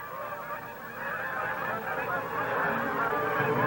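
A flock of geese honks continuously and loudly, many overlapping calls forming a dense, steady chorus that grows slightly fuller over a few seconds.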